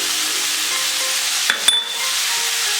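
Vegetable filling for a vegan shepherd's pie sizzles steadily in a pan, with a couple of sharp metallic clinks of a utensil against the pan midway while stirring.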